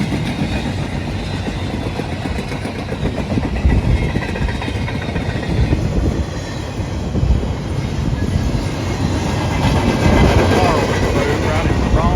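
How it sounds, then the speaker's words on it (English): CSX locomotive and train rolling past on the L&N line, a loud, steady rumble of engine and wheels close by that lasts throughout, with brief voices from onlookers. "Cool looking locomotive."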